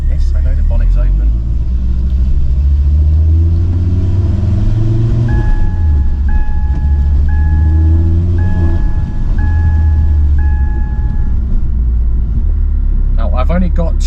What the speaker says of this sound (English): let's go for a little drive, just to make sure it drives really